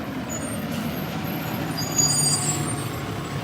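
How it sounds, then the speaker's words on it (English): A garbage truck passing on a residential street, a continuous low engine rumble with faint high brake squeals, heard at moderate distance under an outdoor morning walk. "There's a garbage truck going by."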